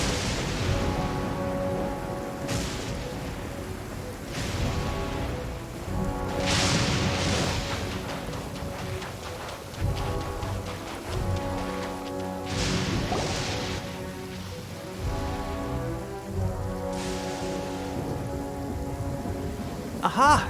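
Steady rain falls in a video game story quest, Omnipresence Over Mortals, as a continuous soft hiss blended with sustained background music for the whole stretch, with no voices.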